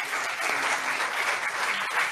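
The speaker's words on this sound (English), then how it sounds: "A big round of applause for all of them as well." Applause from the audience at a graduation ceremony on a training school campus, a dense, steady wash of clapping hands that stays loud and even throughout.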